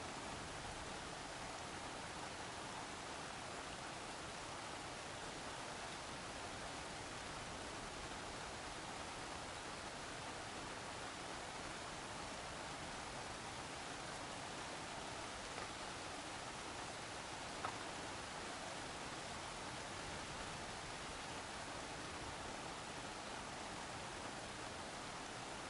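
Steady rain falling in the game Horizon Forbidden West, a constant, even hiss of broadband noise that holds at the same level throughout with no voices.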